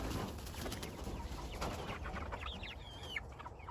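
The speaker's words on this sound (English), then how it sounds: "I think that's a rooster." Chickens clucking with a rooster among them, busy overlapping calls with some higher bird chirps, close and steady throughout.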